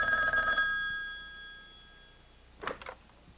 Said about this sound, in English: Johnny got a phone call from his old buddy, Buddy Nichols